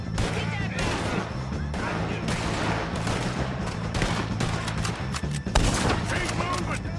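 Gunfire in Red Dead Redemption 2, a dense, continuous barrage of shots and booms throughout, loud and busy, with voices shouting underneath.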